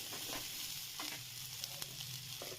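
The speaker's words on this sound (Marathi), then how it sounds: "छान परतून घ्यायचं आहे." Garlicky cauliflower sautéing in a pan, a faint continuous sizzle with light scraping stirs, alone with no voices.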